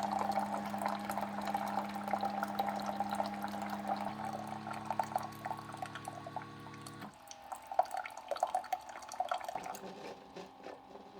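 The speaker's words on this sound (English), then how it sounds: "we can see it just ran water through here to kind of clean out the tubing" A Keurig K-Duo coffee maker runs a freshwater rinse, its pump humming steadily while hot water trickles and drips into a cup, the tone shifting a couple of times before settling into quieter dribbling.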